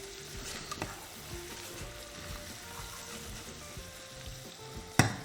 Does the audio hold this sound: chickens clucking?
no